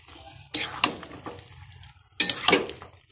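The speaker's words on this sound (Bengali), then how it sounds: "এবার এটার সাথে কিছুক্ষণ কষিয়ে নেব, তাহলে আলুটাও বেশ টেস্টি হয়ে যাবে" Chicken and fried potatoes being stir-fried in a pan for chicken kosha, with two bursts of scraping and clattering stirring separated by a quieter sizzling pause.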